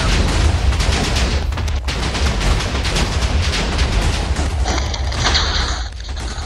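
Dense, sustained video-game gunfire and blasts from Alpha Factions, a loud continuous barrage of shots and booms with little pause.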